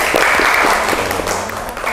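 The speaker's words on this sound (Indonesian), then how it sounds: "Tepuk tangan." Steady, loud applause from a class of participants in an education management session, a dense continuous patter of many hands clapping close by, easing slightly near the end.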